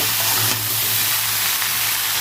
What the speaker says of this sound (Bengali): ওই তেলের মধ্যে ফুলকপিগুলো ভেজে নেবো